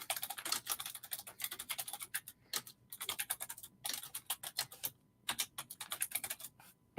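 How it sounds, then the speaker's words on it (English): Fast, steady typing on a computer keyboard fills the whole stretch with rapid keystrokes broken by a few short pauses, close and fairly loud. "Type for a second."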